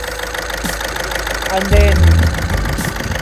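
A Volkswagen car engine idles with a suspected bad fuel injector, a steady, rough rumble running throughout with a louder low surge in the middle, while someone speaks briefly over it.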